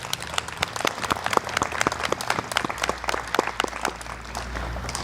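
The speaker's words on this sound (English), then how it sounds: "I'd ask that we give a round of applause to Mary for all of her hard work." Crowd applause at a Relay For Life cancer fundraiser event, dense steady clapping from many hands at moderate distance, sustained throughout.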